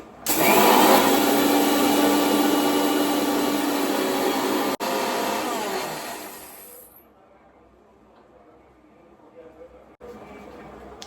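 A mixer grinder whirs loudly and steadily while grinding roasted spices and chilli into powder, a high harsh motor roar that cuts out partway, leaving quiet room noise and a faint thump.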